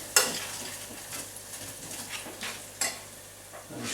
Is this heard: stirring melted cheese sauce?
yes